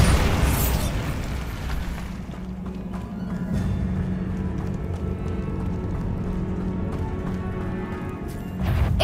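A Bombarda explosion spell in Hogwarts Legacy, a loud blast at the start rolling into a long rumbling roar with crackling debris, near and dense, ending in another burst.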